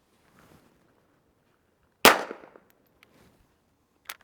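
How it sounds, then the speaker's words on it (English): A single sharp gunshot from a Ruger firing .22 LR into a Gen 2 ballistic helmet, a short crisp crack with a brief ringing tail, followed by a faint distant click. "we're gonna go ahead and take 22 LR out of this Ruger. We're gonna shoot it into the Gen 2 ATE"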